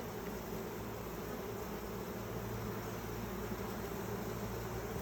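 Honey bees bunched on hive frames during a hive evaluation give off a dense, continuous buzzing drone, steady and close, filling the whole stretch without a break and with no voices.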